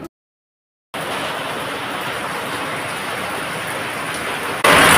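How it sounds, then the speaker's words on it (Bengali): Heavy rain falls steadily outside a home. After a second of silence, a dense, even hiss of rain comes in and grows a little louder near the end. "আজ আমাদের এখানে কিরকম বৃষ্টি হচ্ছে দেখবেন"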